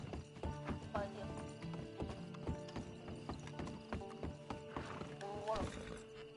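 Horse hooves clip-clop in Red Dead Redemption 2 Online, a steady close trotting rhythm with a horse whinnying near the end, while someone talks over it.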